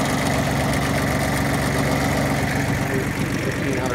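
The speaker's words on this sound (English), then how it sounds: "a Ford 1120 diesel powered lawnmower, four wheel drive tractor" A Ford 1120 diesel four-wheel-drive compact tractor idles close by, a steady low, knocking diesel rumble with even rhythmic pulsing throughout.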